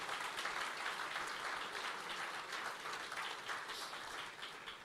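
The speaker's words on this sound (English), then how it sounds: "immense applaudissement pour vous tous ici, pour ce résultat extraordinaire" An audience at the Africa Forward summit in Nairobi, Kenya, breaks into sustained applause, a dense wash of many hands clapping at steady loudness for the full span before easing slightly at the end.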